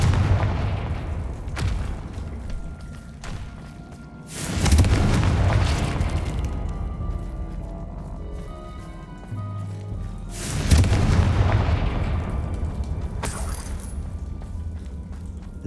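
Confringo blasting curses detonate in Hogwarts Legacy, two heavy booming explosions several seconds apart that swell loudly and rumble away, with smaller cracks and pops in between and little else heard.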